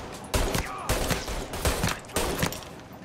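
Gunfire in the Mafia crime game, a rapid series of four or five loud sharp shots in uneven bursts, each ringing briefly with a low echoing tail.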